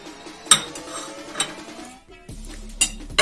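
A spoon clinks and scrapes against a bowl while curd cheese is mixed with finely chopped assorted cheeses, giving a few sharp knocks between quieter stirring sounds, close up and with no voices.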